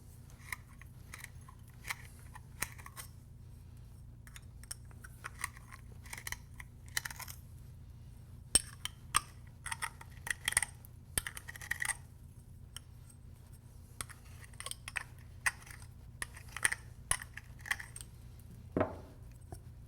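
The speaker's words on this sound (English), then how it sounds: "So I'm going to get this reamed quickly." A cut copper pipe end for a garden hose spigot is reamed by hand, giving sharp, irregular metallic scrapes and clicks over a low steady hum, close up with no talking.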